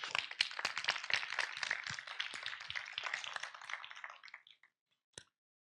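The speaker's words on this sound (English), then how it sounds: "So your applause for the technical crew of TestCon Europe." An audience applauds the technical crew at a TestCon Europe tech conference: dense, steady clapping from a crowd that fades out over about four seconds, followed by a single late clap.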